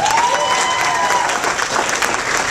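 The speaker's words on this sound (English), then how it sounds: "Put a big round of applause for our host tonight" Dense, steady applause from a comedy club audience at McCurdy's in Sarasota, Florida, close and loud throughout with a few faint cheers mixed in.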